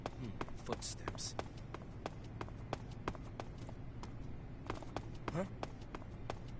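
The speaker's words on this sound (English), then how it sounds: "Footsteps." Footsteps in the video game Metal Gear Solid 3, a series of quick, sharp taps in an uneven running rhythm, fairly faint, with brief voice sounds from a game character in between.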